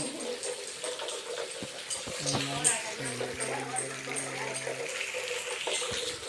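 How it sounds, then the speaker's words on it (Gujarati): Heavy rain pours steadily as a constant broadband wash of water, heard close by with voices talking over it. "જો ફૂલ વરસાદ ચાલુ છે અત્યારે"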